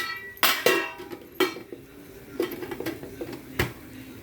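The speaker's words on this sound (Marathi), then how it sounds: "मसाल्याने तेल सुटल्यानंतर आता आपण मसाल्याचा डबा बंद करूया" A metal spice box being closed in a kitchen while cooking a pea usal: several sharp, close metallic clanks and rattles spaced out, with small clinks between them and no talk.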